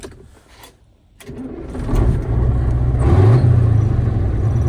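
A vehicle engine cranking and catching, then settling into a steady, loud close idle after a brief quiet pause, with no talk over it.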